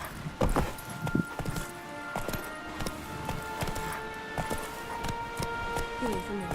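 Roach the horse's hooves clip-clop steadily in The Witcher 3 game, a regular walking rhythm close by under game music and a talking voice.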